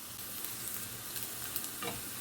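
Garlic and urad dal frying in hot oil for a tempering, a steady soft sizzle and crackle with light stirring throughout, close up and with no voices.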